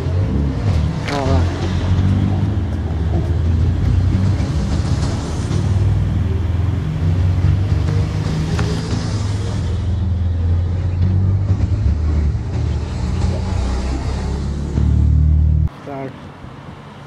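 A classic 1950s Jaguar XK 140 sits outside a Jaguar restoration facility, its engine running with a loud, steady, throaty drone that holds for most of the stretch before dropping off abruptly near the end.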